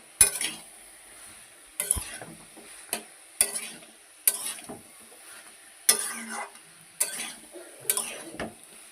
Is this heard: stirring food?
yes